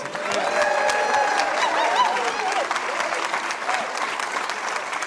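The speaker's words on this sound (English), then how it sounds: "How about one more round of applause?" A retirement gala audience applauds in a steady, full round with scattered sharper claps and a few raised voices or light cheers mixed in, fairly close and loud throughout.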